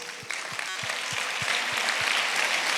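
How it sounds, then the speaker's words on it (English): Audience applause for Lagos traffic officials at a transportation event, steady crowd clapping throughout with a few rhythmic low thumps, no talk over it. "please stand up and let us clap for them"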